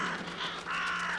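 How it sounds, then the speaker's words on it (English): Crows cawing in the video game The Vanishing of Ethan Carter, two drawn-out harsh caws in quick succession over a steady low hum, fairly close and clear with no talk. "Crows."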